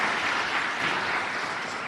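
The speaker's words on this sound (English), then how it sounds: "And let me give them a round of applause," Audience applause at the 2025 Oakland State of the City address, honoring dispatchers and violence prevention staff: a short, dense, even wash of clapping heard alone, moderately distant.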